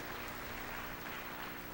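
A church congregation applauds during a sermon, a brief, even wash of many hands clapping together in a large room.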